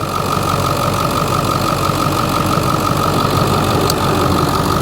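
A 2002 Ford Excursion 7.3L Powerstroke diesel idles steadily and close by, with an even, clattery knock and a constant whine over a low rumble throughout.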